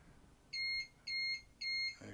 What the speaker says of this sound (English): There's your 3 beeps